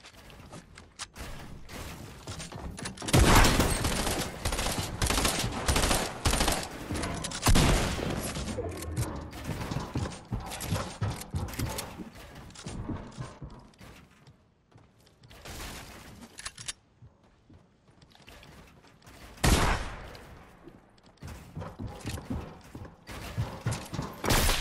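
Gunfire in a shooter video game: rapid clusters of sharp shots and mechanical weapon clatter in bursts, with brief pauses between volleys and a louder burst near the end.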